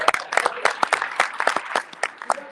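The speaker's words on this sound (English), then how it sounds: "give a little clap here" A small audience at a talk on diversity in football claps briefly, producing scattered, uneven hand claps that stay moderately loud for a couple of seconds.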